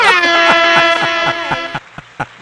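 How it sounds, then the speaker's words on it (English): An air horn sound effect fires during a podcast episode: a loud, brassy, sustained blare with a rapid pulsing flutter that sags in pitch and fades into a few dull thumps. "Let me hit this air horn"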